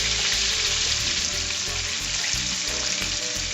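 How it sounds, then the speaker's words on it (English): Pork schnitzel frying in hot grease, a dense steady sizzle with crackling bubbles that runs unbroken and fairly loud, no voices. "Okay, I went ahead and fried all of my pork schnitzel I had."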